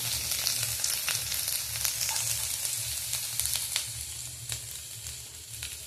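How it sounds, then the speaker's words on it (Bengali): Chopped garlic fries in hot oil for a chilli mushroom dish, giving a steady close sizzle with light crackles and a few soft stirring clicks, heard on its own with no voices. "এবার তেলের মধ্যে রসুন কুচিটা দেবো।"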